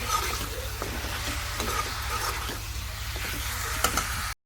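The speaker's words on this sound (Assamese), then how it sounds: "ফ্ৰাই হ'বলৈ দিম অকণমান তেলটো যেতিয়া ওলাব তেতিয়া মই দি দিম মূলা আলু" Radish and potato frying in hot oil with pork, a continuous close sizzle with scraping stirring sounds throughout, cutting off abruptly at the end.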